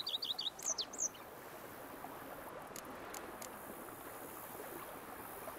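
Bird chirps in The Witcher III game world: a quick run of sharp, high tweets in the first second, then a steady soft ambient hiss with a few faint distant calls.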